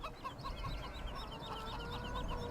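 Chickens clucking in the Farming Simulator 17 video game, Pacific Northwest map: a steady run of short, repeated clucks over a constant low farmyard ambience, no talk.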